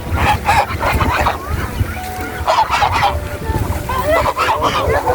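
Geese honk repeatedly in a noisy cluster close by on a riverside, their calls overlapping with other fowl and a busy outdoor background.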